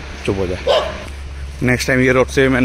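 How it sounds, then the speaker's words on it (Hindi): A dog barks in loud bursts on a road in Arunachal Pradesh while someone speaks nervously over and between the barks. "कुत्ता भौंक रहा है"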